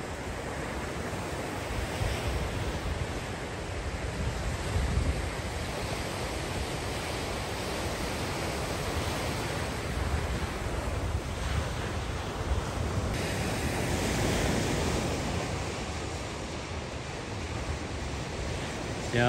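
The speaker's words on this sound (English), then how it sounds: "Love the sound of the ocean." Ocean surf washing steadily onto an empty beach, a continuous broadband roar with wind buffeting the microphone, swelling slightly as waves break and recede throughout.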